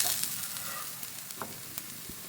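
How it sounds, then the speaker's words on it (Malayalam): Chopped tomato goes into masala frying in a pan for fish pollichathu, with a steady low sizzle, a few light stirring clicks and a soft thud or two, no talking. "മസാലകളിലെയൊക്കെ നമുക്കിതിലേക്ക് അരിഞ്ഞു വെച്ചിരിക്കുന്ന ഒരു തക്കാളി ചേർത്ത് കൊടുക്കാം"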